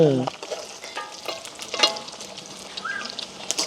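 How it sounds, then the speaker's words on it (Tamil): Meat fries in a pan with a continuous crackling sizzle, punctuated by clicks and scraping as it is turned, with a short bird-like chirp and a brief tone in the background. "இப்போ நாங்கள் வந்து பிரட்டி விடுவோம் பாருங்க எப்படி பொரிஞ்சிட்டு வரும்"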